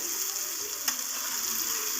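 Onion fries with salt in a pan, giving a steady, close sizzle with one brief scrape of stirring.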